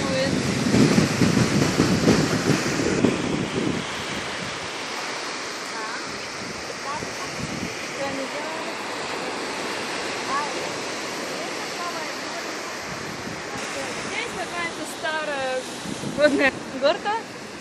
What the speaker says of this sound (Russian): Сегодня море как-то бушует.